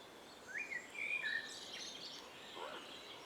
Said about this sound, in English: A lot of bird song.